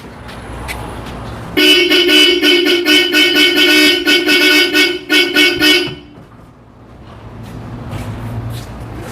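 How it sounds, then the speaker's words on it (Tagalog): A loud Bosch Europa horn fitted to a Toyota Vios blares close up in repeated honks, some long and some short, for several seconds before stopping, with engine hum underneath. "Yung ating Bosch Europa na horn, nakabit natin."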